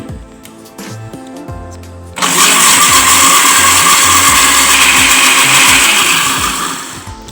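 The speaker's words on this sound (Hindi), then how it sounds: "अब हम इसको ब्लेंड करेंगे।" A blender blending aloe vera and ginger with water starts abruptly after a few seconds of quiet clatter and runs loud and steady, whirring close by until it winds down near the end.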